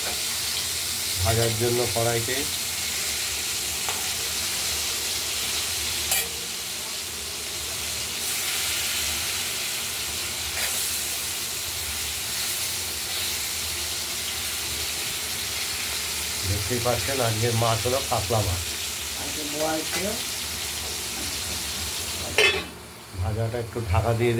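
Pieces of katla fish fry in hot oil with ginger and green chillies, giving a loud, steady sizzle and hiss throughout, while someone speaks over it in several short stretches.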